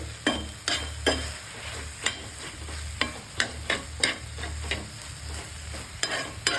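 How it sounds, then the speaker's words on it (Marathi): Roasted eggplant bharit being stir-fried in a pan for a couple of minutes: a low continuous sizzle broken by regular, sharp clacks of a spoon knocking and scraping against the pan, close and fairly quiet. "दोन मिनटं फक्त परतून घेणार आहे"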